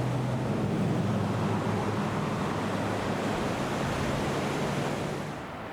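Ocean surf on the Crescent City coast in Northern California makes a loud, steady wash of broadband roar with a low rumble underneath, fading slightly at the end.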